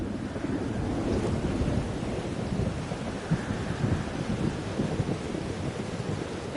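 A thunderstorm in the video game Life Is Strange Double Exposure: steady rain and rushing wind fill the scene with low rolling rumble throughout, moderately loud and continuous, with no voices.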